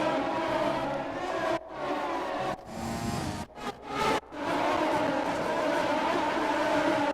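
An F1 2020 race car at speed around the British GP circuit, a former air base turned racetrack, in a video game: a loud, continuous high-revving engine whine with a few brief drops and surges as it shifts and brakes.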